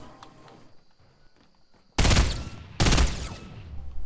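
Gunfire in the video game Fortnite: two loud, close bursts of rapid shots cut in one after the other, following quieter rustling and movement sounds.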